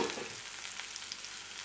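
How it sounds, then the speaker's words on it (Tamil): Onions and curry leaves frying in hot oil for spiced egg pepper masala, a steady soft sizzle with faint crackles and light stirring, close by and alone. "இப்போ இந்த வெங்காயம் வந்து நல்லா வறுக்கணும்"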